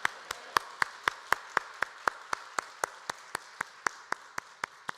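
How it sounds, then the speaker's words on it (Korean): A church congregation claps in worship, sharp evenly spaced claps keeping a fast steady beat, bright and fairly close, with no voices over them. "우리 감사와 영광의 박수 올려드립시다"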